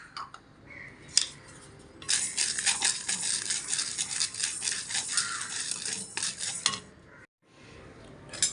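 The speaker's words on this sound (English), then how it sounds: "Now we will dry roast the tuvar dal." Tuvar dal being dry roasted in a pan for rasam powder, the dry lentils stirred and scraped against the metal in a busy, close rattling scrape with brief pauses.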